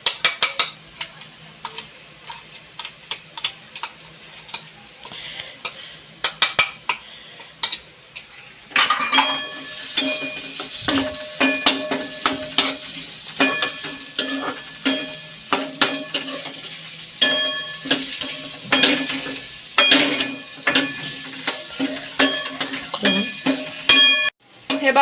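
Onion and freshly ground masala paste are sautéed over low gas in a pan for methi bhaji. Faint scraping comes first, then a louder sizzle with frequent metal spoon clinks and stirring scrapes, close by.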